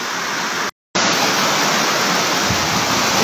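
Floodwater rushes in Bonbon, Libon, Albay in a dense, loud, continuous roar, broken by one brief silent gap before the torrent resumes at full strength.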